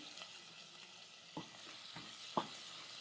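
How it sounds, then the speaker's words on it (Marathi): Chopped tomatoes sautéing with ginger-garlic paste in a pan for a village-style chicken curry, a faint soft sizzle with a few sharp stirring knocks and scrapes, close and quiet, no voices. "टोमॅटो चांगला आपल्याला मऊ होईपर्यंत परतायचं"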